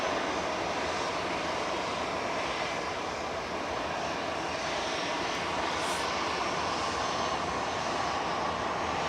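An EasyJet airliner bound for Faro departs Manchester Airport, its engines a steady, distant broadband roar that holds evenly for about nine seconds with no voices.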